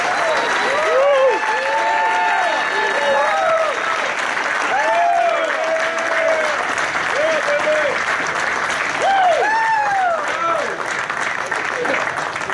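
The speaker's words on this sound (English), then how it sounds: "give the biggest round of applause you can for these guys out there" A crowd at a fishing tournament weigh-in applauds the winners with loud, sustained clapping throughout, while an announcer's voice and cheers ride over the top.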